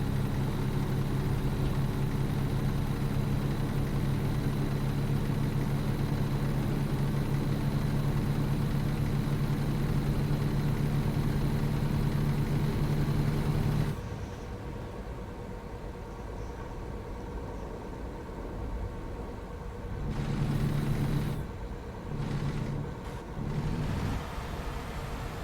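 Simulated heavy truck engine idling in American Truck Simulator, a steady low diesel drone that holds for about fourteen seconds, then drops to a quieter, muffled rumble with brief swells, with no talk over it.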